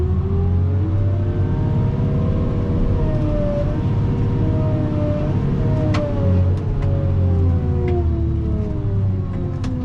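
Heavy excavator engine loud and close, throttled up and held at high revs with wavering pitch as the hydraulics lift the bucket, a deep continuous roar with a few sharp clanks partway through.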